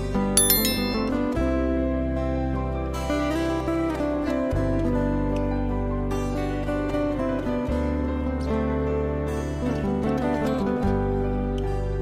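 A bright notification bell jingles at the opening over a continuous electronic music bed with a deep, pulsing bass line that runs the whole length.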